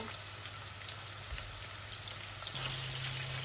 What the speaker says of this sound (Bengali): এই যে জিরার রসুনটা ভাজা ভাজা হচ্ছে।